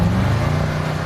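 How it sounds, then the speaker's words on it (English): A deep, rumbling 2020 Audi RS Q8 engine holding a steady, throaty idle-to-rev growl, loud and close, with no talking. "That's the sound of a brand new 2020 Audi RS Q8."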